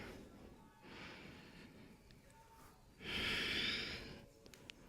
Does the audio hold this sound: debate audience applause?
no